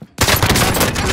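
Sustained rapid automatic AK-47 fire in the Warzone video game, a loud dense burst of shots starting abruptly and continuing without pause.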